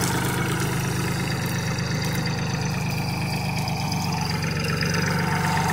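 Farmtrac Atom tractor engine running steadily and loudly under load while pulling a trolley piled with 50 quintals of sugarcane, a continuous low rumble holding near and unbroken throughout with no talk over it.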